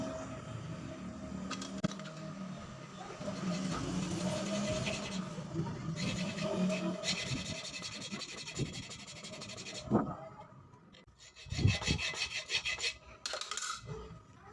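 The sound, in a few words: hacksaw cutting grooves into scooter automatic clutch lining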